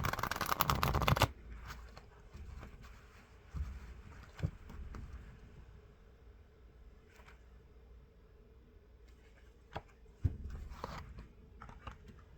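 A burst of card shuffling at the start, a quick riffle, followed by quiet room tone with a few scattered soft taps and clicks.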